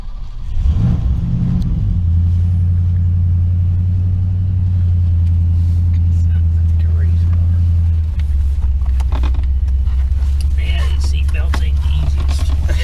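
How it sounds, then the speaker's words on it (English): The engine of a 1975 Ford LTD Brougham runs with a loud, deep, steady rumble close by, its pitch shifting partway through, while people talk over it. "go ahead and start it up, Randy."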